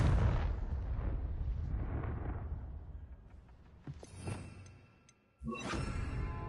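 A Confringo fire spell explodes in Hogwarts Legacy on PS5: a rumbling roar settles, a sharp burst cracks near the middle, then a loud, close blast erupts and rumbles on to the end.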